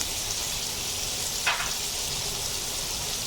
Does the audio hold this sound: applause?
no